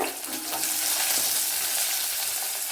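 Sliced onion and green chillies fry in a pan with curry leaves for a Kerala-style pumpkin dish, giving a steady, close, loud sizzle with stirring, no voices.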